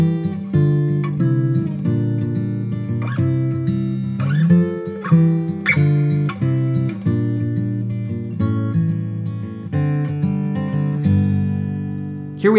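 An acoustic guitar plays the bridge section of a song with two-note shell voicings, strummed and plucked chords ringing out clearly and closely, with no voice.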